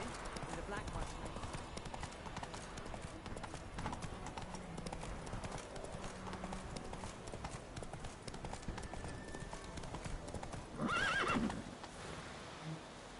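Horse Roach gallops in The Witcher 3, with a continuous drumming of hooves under game ambience and a loud whinny near the end, while a voice talks over parts of it.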